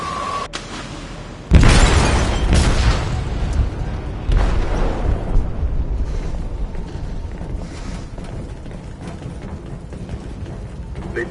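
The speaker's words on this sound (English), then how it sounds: "They detonated an explosive in the hold." A loud explosive detonation in a ship's hold in the Detroit: Become Human game, opening with a sharp blast and then a long, heavy rumble with crashing debris that stays dense and slowly fades.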